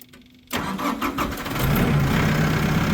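A Massey Ferguson compact tractor engine with a newly replaced starter cranks briefly after a moment of quiet, catches and settles into a steady, close, rumbling idle.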